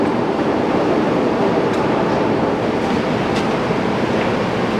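A Monarch 22.5 x 96 engine lathe running, giving off a loud, steady broadband rumble and whir that holds even from start to finish with no pauses, heard close with no voices.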